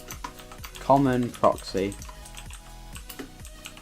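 Keyboard typing while writing Minecraft mod code: a run of soft, rapid key clicks under a voice, fairly close and quiet, with the tapping continuing between spoken phrases.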